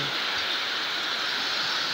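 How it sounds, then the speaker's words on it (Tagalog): Heavy rain pours down in a steady, dense hiss that fills the space without letup, loud and close, with no talking. "Lakas ng ulan mga idol."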